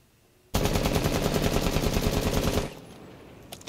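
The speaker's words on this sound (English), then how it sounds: "Yeah, after around bullet 12, you don't really count whenever you shoot." Blackbeard's rifle in Rainbow Six Siege fires one long, rapid full-auto burst of about two seconds, loud and close, then stops into a faint tail with a couple of small clicks.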